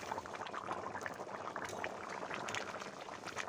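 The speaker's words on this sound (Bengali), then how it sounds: "ফুটে গেছে মাংসের ঝোলটা।" Village-style chicken curry broth bubbles at a rolling boil in a pot, a soft, continuous burble of popping bubbles with no one speaking.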